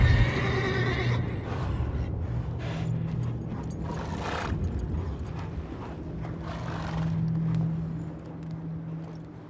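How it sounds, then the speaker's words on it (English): A horse in The Witcher 3 neighs and whinnies with a rising, shaky call at the start, followed by snorts and hoof clops over a steady low rumble of ambient game sound. "Hello, horsey."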